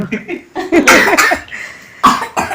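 Several loud, close coughs in bursts, with harsh throat-clearing sounds between them and no talking.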